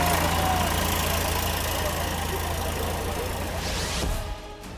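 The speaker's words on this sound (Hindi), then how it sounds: "नगरपालिका का ट्रैक्टर लोगों को मदद पहुंचाने के लिए संकट की इस घड़ी में सड़क पर उतरा" A municipal tractor engine runs on a flooded road during heavy rain in Gujarat, a steady droning rumble that is fairly loud and then eases near the end, with news narration over it.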